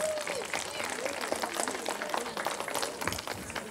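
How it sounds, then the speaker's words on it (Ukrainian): Audience applause at a charity rock concert featuring young local bands, a dense steady patter of many hands clapping throughout, moderately loud with crowd noise mixed in. "Ваші оплески."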